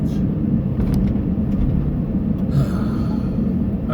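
Steady road traffic rumbles throughout as a continuous, loud low drone from nearby vehicles, with faint higher hiss from passing cars and no distinct individual pass-bys.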